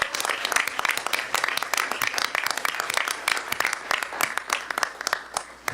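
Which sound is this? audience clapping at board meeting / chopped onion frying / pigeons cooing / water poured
audience clapping at board meeting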